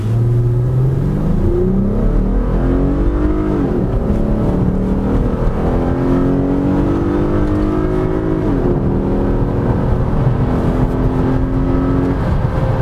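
A Lexus GS 2.5-litre V6 engine revving up and down repeatedly, loud and close, with gliding pitch sweeps as the throttle rises and falls, no voices.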